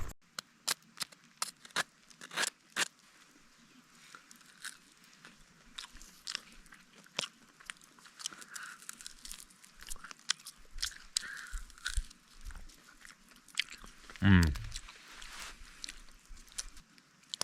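Crunchy bites and chewing of toasted bread with charred edges scraped off, cooked outdoors at a campfire; irregular close crisp crunches throughout, with one louder bite near the end.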